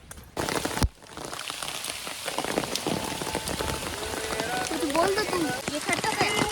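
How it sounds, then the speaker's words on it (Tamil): Heavy rain pours steadily onto surfaces at a Matheran hill-station viewpoint, a dense continuous hiss with a sharp knock early on, while voices talk intermittently beneath the downpour. "செம மழை தெரியுதா உங்களுக்கு?"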